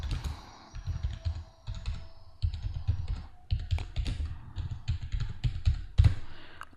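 Rapid typing on a computer keyboard while entering a spreadsheet in Excel: close, clicky keystrokes in uneven bursts and short runs, with brief pauses between groups and no talking.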